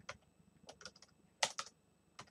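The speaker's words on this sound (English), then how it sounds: "Haven't been typing yet this morning." Bursts of typing on a computer keyboard, close and fairly quiet, with a few quick keystroke clusters separated by short pauses and no voices.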